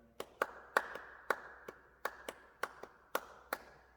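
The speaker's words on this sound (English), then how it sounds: "You can actually clap that for most of the way through it." Hands clap a steady rhythmic pattern indoors, about a dozen crisp, close claps with short gaps, alone with no talking.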